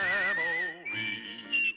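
A whistled melody from a western TV theme song, a clear sustained whistle that glides between held notes, heard alone with no voices.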